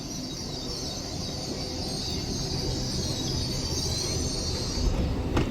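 A Class 801 passenger train at Shipley station rumbles steadily with a sustained high wheel squeal, a continuous close, moderately loud roar that builds slightly toward the end.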